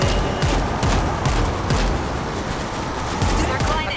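Heavy, continuous gunfire in the zombie shooter World War Z, rapid shots layered into a loud din with game voices and a player talking over it.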